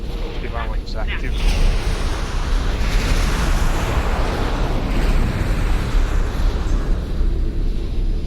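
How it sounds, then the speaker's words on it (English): A sustained, loud explosive rumble with broad roaring noise from a blast in the space combat game Star Wars Interworlds, holding steady for several seconds without a break. "Explosion imminent."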